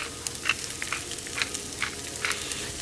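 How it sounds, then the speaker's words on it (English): Shallots and garlic sauté in a hot pan, giving a steady soft sizzle with faint crackles and occasional scraping stir sounds, close and fairly quiet, with no voices. "Drop in the shallots and garlic, and then stir them around, giving them a nice coating."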